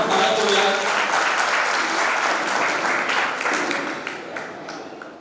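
A hall audience at a state-level bride and groom introduction gathering claps loudly, welcoming a guest onto the stage with broad, sustained applause that slowly fades over about five seconds.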